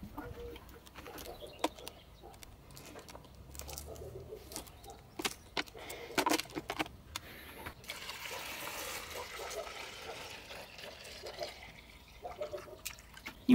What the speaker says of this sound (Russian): И вот, как видно, капельный полив пошел.